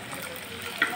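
Fried eggs tipped into a sizzling egg masala curry gravy: constant frying crackle, with a brief sharper burst near the end as they go in. No one speaks.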